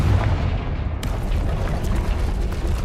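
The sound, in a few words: Confringo spell explosion in the Hogwarts Legacy video game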